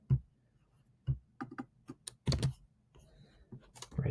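Keys tapped on a computer keyboard to type a query, irregular close clicks in short bursts with pauses between them, ending in a quick flurry.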